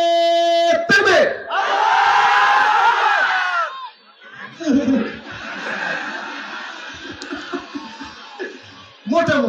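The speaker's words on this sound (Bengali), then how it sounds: "বিবাহিত ভাইয়েরা তাকবীর দেন" A large crowd of married men at a religious gathering roars takbir in unison, two long loud shouted waves that swell and fade, with some laughter and chatter between them.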